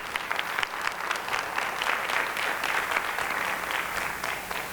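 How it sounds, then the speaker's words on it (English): An audience at a school district event claps for the finance team, a dense, even wash of many hands heard from across a hall, steady and unbroken for several seconds with no talking over it. "Give them a round of applause."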